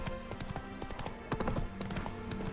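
Horse hooves clip-clopping at a steady trot in The Witcher 3 Wild Hunt, Hearts of Stone expansion, a close, rhythmic string of sharp hoof strikes over game ambience.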